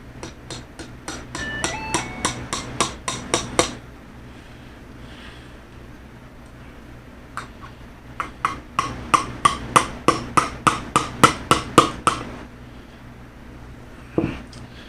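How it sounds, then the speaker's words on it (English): Repeated sharp hammer strikes in two quick bursts of about a dozen blows each, ringing and fairly close, with a lone strike near the end. "Hammer here."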